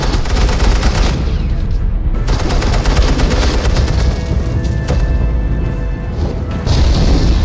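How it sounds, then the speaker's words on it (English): Suppressing gunfire in the video game Batman: The Enemy Within, a loud, dense run of rapid shots and booms that continues without a break, with no talking. "suppressing fire"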